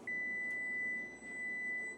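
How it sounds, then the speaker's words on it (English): A kitchen timer gives one sustained, steady electronic beep over a low background hum while bread bakes in a Dutch oven; nobody speaks. "there goes the timer"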